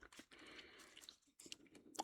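Close, quiet chewing of a white pellet of PK chewing gum: soft wet crunches and bites in irregular bursts with short pauses.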